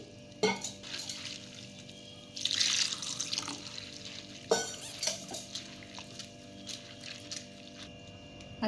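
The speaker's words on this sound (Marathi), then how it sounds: "साबुदाणा आपण एकदम स्वच्छ धुवून घ्यायचा आहे आधी" Sabudana (sago pearls) being washed and stirred in water in a home kitchen, with intermittent splashing and sloshing bursts and a faint background hum, no talking.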